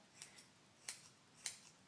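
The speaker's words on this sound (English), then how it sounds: "You want the scissors to be going like this" Scissors snip a basenji dog's tail hair, giving three crisp, faint, close-up cuts spaced about half a second apart in an otherwise quiet room.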